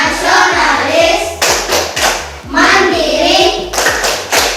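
Pupils in a classroom doing the PPK clapping chant: crisp, evenly rhythmic claps punctuate their loud unison chanting, near and sustained for the whole stretch.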